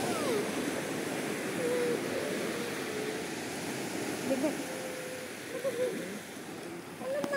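Sea waves wash onto an Andaman beach at high tide, a continuous rushing surf close by, with a voice talking faintly over the water.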